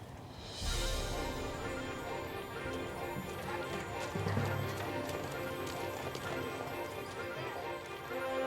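Ranch horses bred for work at McGarry Ranches in Rexburg, Idaho walk in, hooves clip-clopping steadily at a moderate distance with faint background noise and no talk.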